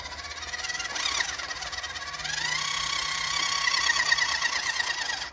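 The electric motor of an RC truck whines as it crawls uphill in first gear, a steady high buzzing drone that rises slightly in pitch and loudness partway through.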